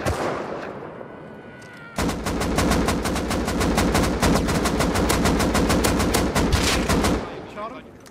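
Loud rapid automatic gunfire in the survival video game Rust, a sustained burst of evenly spaced shots lasting several seconds, close and dominant, with quieter game ambience before and after.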